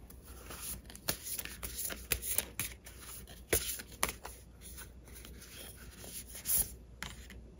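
Tarot cards shuffled and handled at a table, a steady run of soft rubbing swishes and papery slaps with several sharper flicks, close and fairly quiet, with no talking.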